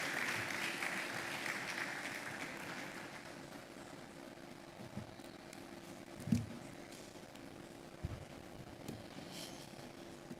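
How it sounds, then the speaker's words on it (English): A conference audience at a retail congress claps as a speaker walks up to the stage. The applause is fairly loud at first, then thins and fades into scattered claps and a few soft thumps and knocks. "Please clap until he comes on stage."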